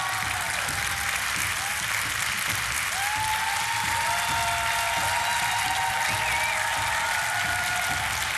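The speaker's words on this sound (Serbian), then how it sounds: "ajmo jedan veliki aplauz za naše takmičare" Continuous studio audience applause for contestants on a TV quiz show, an even, dense roar of clapping held steady from start to finish with a faint tone sounding over it partway through.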